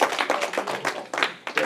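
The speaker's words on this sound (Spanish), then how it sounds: "Un aplauso." A church congregation claps together at the close of a Sunday morning service, a short burst of pulsing, uneven applause that swells and fades in waves.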